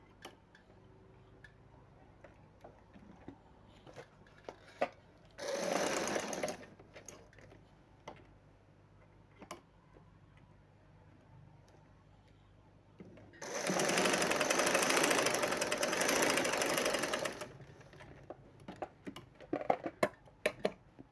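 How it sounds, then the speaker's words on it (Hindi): A sewing machine stitches a side slit in ladies' pants in two loud bursts, one short and one longer, between quiet handling clicks and faint ticks. "वहाँ से सिलाई स्टार्ट करनी है और जितना हमने ऊपर से जोड़ लिया आधी इंच उतना हमने और बिल्कुल सीधी सिलाई आपने लगानी है"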